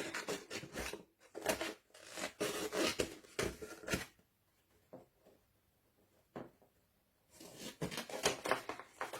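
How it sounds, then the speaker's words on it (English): Scissors cut paper along score lines while an envelope is made from scratch, giving rapid close snipping and crisp rustling in two bursts separated by a quieter pause, with no talk. "cut along those score lines"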